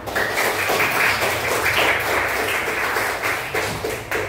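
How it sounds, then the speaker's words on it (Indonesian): A group claps together at a school class performance on friendship, a brisk run of hand claps with rhythmic surges, steady and fairly loud for several seconds. "Tepuk tangan untuk kita."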